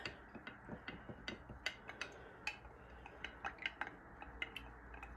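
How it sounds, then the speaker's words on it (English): A wooden spoon stirring fabric dye in water, a quiet series of light knocks and taps against the container in an irregular rhythm, close and alone with no talk. "get my little trusty little wooden spoon and give it a bit of a stir"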